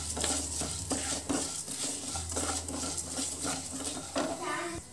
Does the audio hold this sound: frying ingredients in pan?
yes